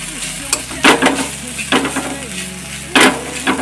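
Onions frying in a pan for a Maggi noodle dish sizzle steadily while a spatula stirs them, with several louder scraping strokes against the pan at irregular moments.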